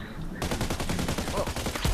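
Rapid gunfire in the online shooter Contract Wars: a dense, loud stream of close shots that starts abruptly and keeps hammering in a steady rattle to the end.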